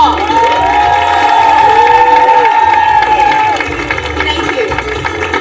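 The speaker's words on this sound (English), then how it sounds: "of applause for grade 3 and 4." Grade 3 and 4 pupils at a school word parade draw sustained crowd applause and cheering, with a loud wash of clapping under shouting and talk that eases slightly near the end.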